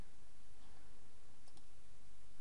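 A computer mouse gives a right click: two quick, faint clicks close together near the middle, over a quiet background hiss.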